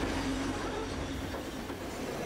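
A passenger train rolling through Sri Lanka's hill country, a loud steady rumble with wheel and carriage noise filling the whole stretch from close by.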